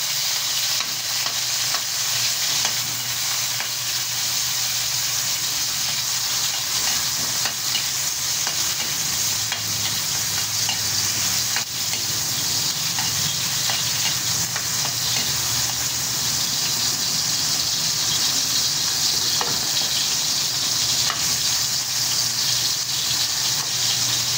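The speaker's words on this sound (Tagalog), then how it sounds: "Unahin ko po pag gisa ang kamatis." Tomatoes sautéing in a pan, a loud, continuous hiss and sizzle of frying that holds steady throughout with faint stirring, no voices.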